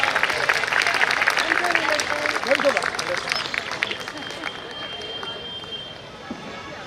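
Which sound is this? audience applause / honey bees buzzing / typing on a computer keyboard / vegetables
audience applause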